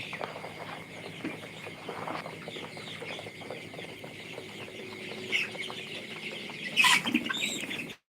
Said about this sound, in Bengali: অল্প জায়গার ভিতরে আমি এক হাজার মুরগি নিছি